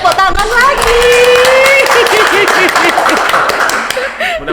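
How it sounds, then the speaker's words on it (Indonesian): Applause from a crowd at an Indonesian nurses' association (PPNI) anniversary celebration: a dense, steady wash of clapping that holds loud for several seconds, with a few voices and laughs mixed in. "Oke, tepuk tangan lagi."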